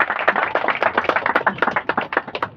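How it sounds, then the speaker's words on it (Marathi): A crowd of people at a Ganpati gathering claps together in a quick, steady burst of applause, close and fairly loud, with no talk over it. "सर्वांचा पहिल्यांदा हार्दिक स्वागत आपण टाळ्या वाजून त्यांचं करूया"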